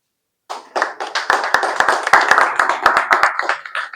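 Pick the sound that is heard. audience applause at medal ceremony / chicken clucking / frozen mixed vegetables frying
audience applause at medal ceremony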